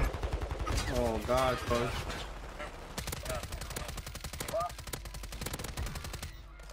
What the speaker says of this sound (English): Where that guy is shooting?